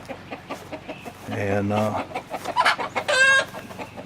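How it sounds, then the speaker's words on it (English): Backyard pen holding about thirty chickens, with nearby clucking and a drawn-out rooster-like call among the birds, rising and falling over a few seconds while someone speaks briefly. "There's my chicken pens. I got about, I don't know, 30 chickens."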